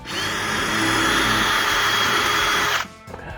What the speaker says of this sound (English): We're also gonna start with a smaller drill bit.